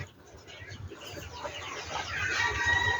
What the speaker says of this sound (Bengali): আর এটা আমাদের টার্কি মুরগি